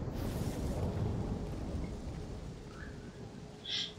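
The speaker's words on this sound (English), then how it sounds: "I'll give you a big head start by summoning a storm to blast away the ice blocking the path up the mountain." Distant rolling thunder and rain hiss in a storm summoned to blast ice off a mountain path in the game Immortals Fenyx Rising, a steady broad wash with a brief brighter crack near the end.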